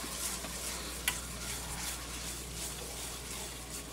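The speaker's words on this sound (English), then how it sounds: "keep mixing it till the bubbles start to subside a little bit" Gravy bubbles and sizzles in a frying pan while a spoon stirs it steadily, a soft continuous crackle with one brief scrape or tap.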